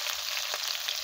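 Cabbage frying in fish oil, a steady bright sizzle throughout with a faint stir in the middle, close and even, no voices.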